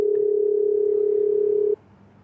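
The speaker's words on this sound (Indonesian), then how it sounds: "Gue telepon dulu ya." A steady telephone ringback tone holds for nearly two seconds before cutting off, placed during an Indonesian talk show, loud and alone with no voices over it.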